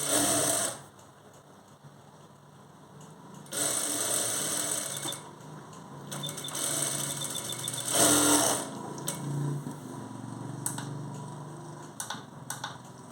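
A sewing machine stitches a blouse lining in several bursts of whirring, separated by brief pauses and light handling clicks, close and fairly loud.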